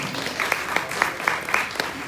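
Stand-up comedy crowd clapping in rhythm, a steady beat of unison claps roughly four per second over a softer scatter of hands, fairly close and without talking.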